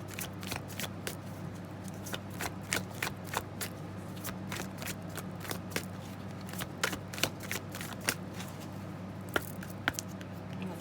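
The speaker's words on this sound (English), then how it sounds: "Let's shuffle one more time." Tarot cards being shuffled in the hands produce a steady stream of crisp, quick riffling snaps and flicks, close and fairly soft, continuing for the whole stretch over a low background hum, with no voices.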